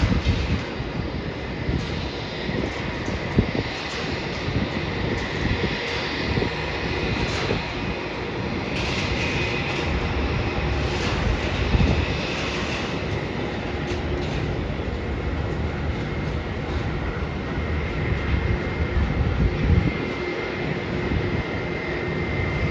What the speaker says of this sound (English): And the flight to Queenstown is departing now.